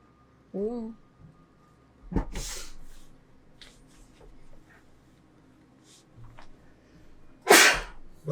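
A sneeze bursts out once during a tabletop role-playing session, followed by a second sharp sneeze-like burst later, with quiet chatter and room noise between them.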